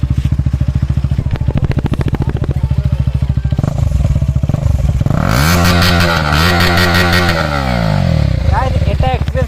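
A motorcycle fitted with a modified aftermarket exhaust runs loud and close, a steady pulsing idle that rises into sharp revs partway through, with no talking.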